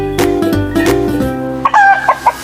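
Native chickens tied up outdoors cluck and crow close by, with a few loud, layered calls followed by short bursts of clucking.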